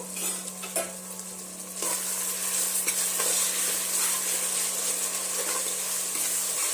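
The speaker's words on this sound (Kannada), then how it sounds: "ಟಮಾಟೆ ಹಾಕಿ ಫ್ರೈ ಮಾಡ್ಕೋಬೇಕ್ರಿ ರುಚಿಗೆ ತಕ್ಕಷ್ಟು ಉಪ್ಪು" Chopped tomatoes frying with salt in a pan, a steady dense sizzle that grows louder partway through, with occasional stirring scrapes and a constant low hum in the background.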